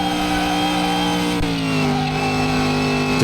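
A hot-rod engine in Car Mechanic Simulator 2021 revs hard and steadily, close and loud. A brief shift break comes early, then a sustained pull, with the pitch shifting as the car accelerates.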